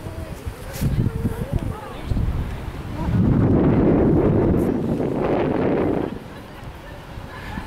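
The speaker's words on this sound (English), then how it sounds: "you know that it's really windy on the video" Strong wind blows across an open beach landscape, a steady broadband roar that swells loudly in the middle of the clip and eases off again, with rustling and buffeting on the microphone.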